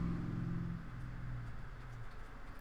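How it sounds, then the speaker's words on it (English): A loud pickup truck rumbles past outside, a deep low engine drone that is strongest at the start and then slowly fades as it moves away, with steady traffic noise around it. "That was a very loud pickup truck today."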